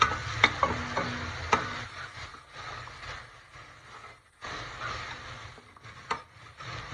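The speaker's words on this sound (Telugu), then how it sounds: "గరిటె పెట్టుకొని మంచిగా కలుపుతాం" A ladle stirs ivy gourd curry in a pan with a little oil and curry leaves, scraping and knocking against the metal over a soft sizzle, with a few sharper taps.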